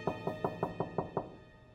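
Seven evenly spaced knocks land on a door in a steady rhythm, moderately close and clear with no talk over them, then the sound fades to quiet.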